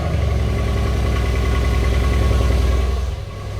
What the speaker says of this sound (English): This is a cold startup on a 2019 Mercedes-Benz AMG C63S with a Gentani tune and downpipes that hasn't been driven in 7 days.